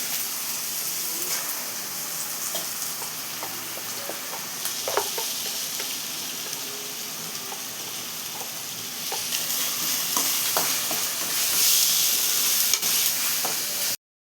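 Ginger garlic paste and green chillies frying in oil for beef thokku, giving a steady close sizzle and hiss with occasional stirring scrapes and clinks, which grows slightly louder near the end.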